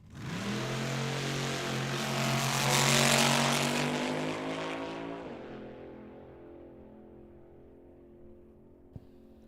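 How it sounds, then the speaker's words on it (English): A small block Chevy front engine dragster at Tucson Dragway roars past in a rising, loud pass, peaks near, then fades steadily into the distance. "Small block Chevy powered front engine dragster easing towards the infrareds in the American walk-in coolers lane."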